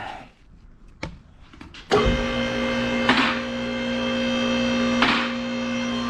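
An electric vehicle lift raising a Mitsubishi Evo X MR starts with clicks, then a steady motor whine and hum runs continuously, close and loud, with a couple of brief clunks along the way.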